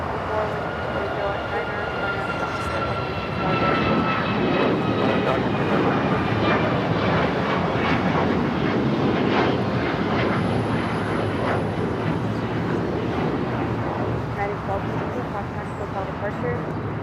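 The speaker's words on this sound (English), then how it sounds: "Next takeoff, us a flight headed to Denver. United Airlines flight 1260 at 737 MAX 9." A United Airlines Boeing 737 MAX 9 bound for Denver takes off at LAX, a sustained loud jet engine roar that builds and holds for seventeen seconds, with a voice speaking over it.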